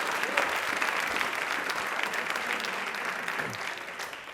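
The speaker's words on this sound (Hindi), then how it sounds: "तालियां प्लीज एक बार जोरदार पहले हो जाए" Studio audience applause on a televised quiz show, a continuous, fairly loud burst of many hands clapping together for several seconds without pause.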